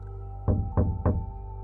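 Three evenly spaced, muted knocks land over a low background hum in a horror story, each a short dull thud fading quickly.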